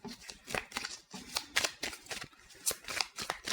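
Tarot cards riffle and slide in quick, close, crisp bursts of shuffling, with brief pauses between each flurry as cards are handled and drawn.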